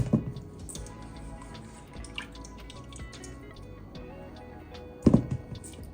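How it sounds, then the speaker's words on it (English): Buttermilk drips from homemade butter squeezed by hand, a scattering of small wet ticks and patters close by, with a louder squelch near the end and no talking. "I'm gonna squeeze my butter just so I can wring out as much of the buttermilk as possible."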